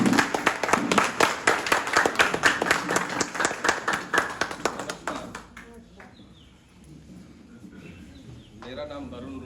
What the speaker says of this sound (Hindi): इनके लिए आप लोगों को हरे ताली बजा दीजिए